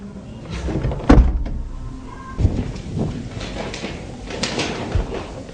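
A door opening amid a Turkmen film scene, with a loud thump near the start and a later knock, followed by quieter rustling and movement sounds at close range.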